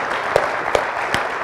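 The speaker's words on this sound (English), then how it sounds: "Can we give them a round of applause?" An audience claps for the Johnson STEAM Academy Gospel Choir at a school district event, with steady, dense applause throughout and a few louder individual claps standing out.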